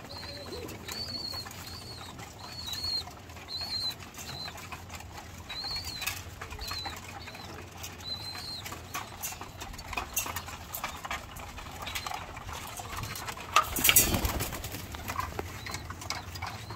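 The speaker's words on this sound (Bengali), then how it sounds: "সবগুলো কবুতর খাওয়া দাওয়া করতেছে।" Flock of pigeons feeding in the morning, soft repeated cooing and bursts of wing flapping nearby over a steady outdoor background, with a louder flurry of wings near the end.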